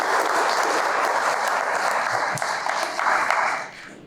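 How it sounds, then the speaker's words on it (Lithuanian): An audience at a bodybuilding seminar and forum in Lithuania claps in a dense, steady burst of applause for about four seconds before it tapers off. "Tai aplodismentai Renatai."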